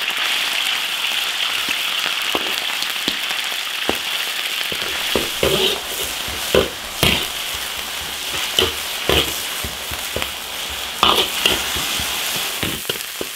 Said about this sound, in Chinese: 牛肉丝下锅滑散。